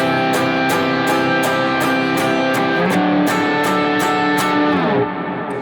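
An electric guitar rings out a sequence of sustained chords with a higher note on top, plucked in a steady repeating pattern, loud and close.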